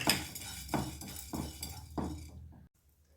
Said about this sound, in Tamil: அடுத்து கருப்பு கவுனி அரிசியை வறுத்துக்கலாம்